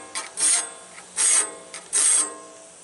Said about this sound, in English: file it as quickly as I'm filing it to get that straight edge